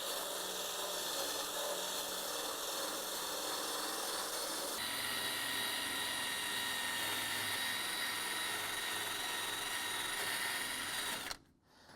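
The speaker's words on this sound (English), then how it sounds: "if you're going to do a wire wheel away from the opening like that." A wire wheel strips paint from a Ford Falcon car body, a steady loud abrasive whine and grinding that runs continuously before cutting off abruptly near the end.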